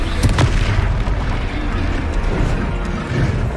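A Confringo fire spell blasts in the Hogwarts Legacy video game, a loud booming burst with rumbling debris that fills the whole moment.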